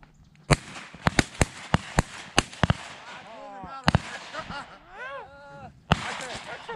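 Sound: shotgun shots while duck hunting

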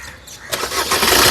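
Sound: Maruti Suzuki Ignis car engine starting

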